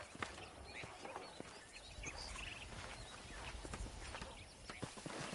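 Horse hooves clip-clop steadily across the ground in Red Dead Redemption, an even walking rhythm up close with faint ambient birds and outdoor rustle behind.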